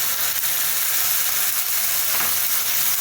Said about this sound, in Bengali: দিয়ে এটা এখন ভালো করে একটু নাড়াচাড়া হবে